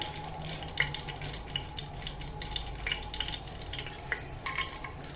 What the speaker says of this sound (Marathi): हे सगळं घातलं मी याच्यात तुपामध्ये लवंग वेलदोडे हे सगळं घालून घेतलंय हे छान परतून घेऊया